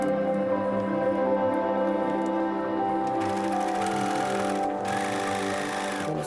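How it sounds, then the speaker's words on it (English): Close sewing machine stitching a circle skirt waistband from the center back, a steady mechanical whir running throughout with a slight change in pitch partway through. "Now from the center back, we're going to start stitching."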